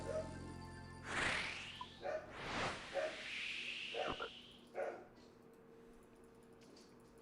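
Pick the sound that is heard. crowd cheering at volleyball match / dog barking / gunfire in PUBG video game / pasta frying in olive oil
dog barking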